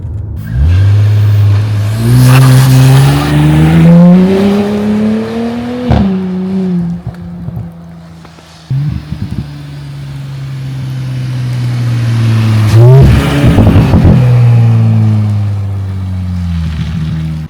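Audi SQ5 SUV accelerating hard up to 60 on a road, its engine note climbing in rising revving sweeps through gear changes, loud and close with a brief dip midway before pulling again.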